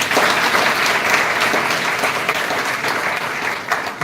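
An audience at a Science Day memorial lecture claps steadily and loudly, sustained applause from a crowd filling the hall with no voices over it.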